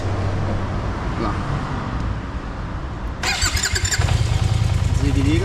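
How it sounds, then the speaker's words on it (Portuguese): Kymco AK 550 scooter starter motor with an unusual noise, a squealing whir midway that catches into a loud, close engine idle, with voices talking at the start. "desliga ela e liga agora para ouvir do motor de partida"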